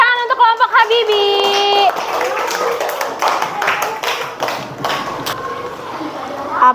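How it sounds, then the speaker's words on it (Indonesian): Primary school students applauding a classmates' group in class, a brisk run of hand claps filling the room, with children's voices and someone speaking over it. "Kasih tepuk tangan untuk kelompok Habibi."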